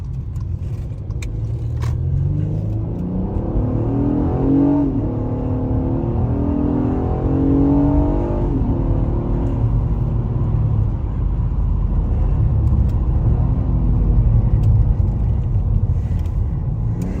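Inside a 2019 Acura TLX A-Spec AWD fitted with a K&N air filter, the engine growls steadily and builds with rising revs under acceleration, a continuous close rumble with no talking.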